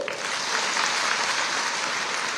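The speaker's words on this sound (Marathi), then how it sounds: "ज्या टाळ्यांनी आता आपण माननीय मुख्यमंत्री महोदयांचं स्वागत केलं" An audience claps to welcome the Chief Minister at a women's self-help group gathering in Maharashtra: dense, loud, continuous applause from many hands, filling the whole short stretch with no talk.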